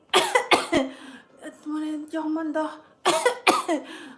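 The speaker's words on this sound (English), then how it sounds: "even to talk to the children, I start coughing." Several harsh coughs in quick bursts, then a stretch of strained vocal sound, followed by another pair of coughs, close and fairly loud.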